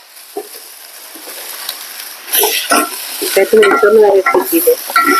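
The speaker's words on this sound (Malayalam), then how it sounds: "നമ്മൾ ഉരുളക്കിഴങ്ങ് ഇട്ട് കൊടുക്കുക പിന്നെ ഉരുളക്കിഴങ്ങിന്റെ കൂടെ തന്നെ നമ്മൾ കട്ട് ചെയ്ത് വെച്ച ക്യാരറ്റും കൂടെ ഇട്ട് കൊടുക്കുക" Potatoes and carrots are frying in a pan at home: a low sizzle runs throughout, then grows louder from about halfway with busy scraping and clattering as the pieces are stirred and tossed.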